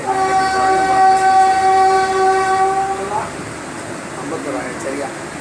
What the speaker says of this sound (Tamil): சரி ட்ரெயின் எடுத்தாங்க.